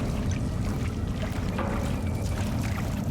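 Shower water runs in Silent Hill 2 Remake as a steady, dense rush of spray that stays close and even throughout, with no talking over it.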